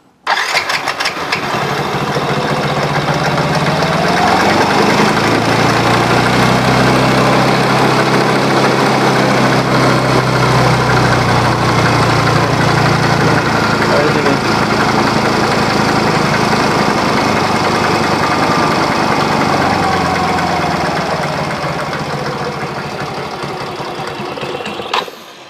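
A Yamaha X-Ride motorcycle engine with a fault starts and idles unevenly, giving a loud, continuous close-up rumble with wavering pitch before it cuts out at the end.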